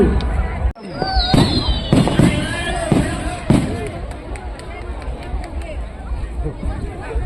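A giant Thai ta-lai spinning rocket firework, weighing nearly three tons, launches with a sharp crack and then a rising whistling screech, followed by several loud bangs and pops over a constant excited crowd babble and shouting.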